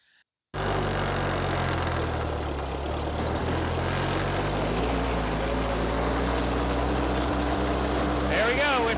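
A tractor, either a Ford 8N or a Deutz Allis 5220, starts abruptly after a moment of quiet and then runs flat out at top speed, a loud, steady low engine drone that continues to the end.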